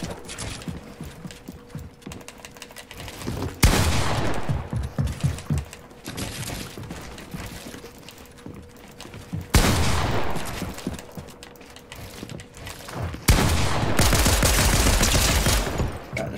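Pistol gunfire in the Fortnite video game, arriving in three loud bursts of rapid cracking shots mixed with clattering mechanical game effects, separated by quieter stretches of background game noise.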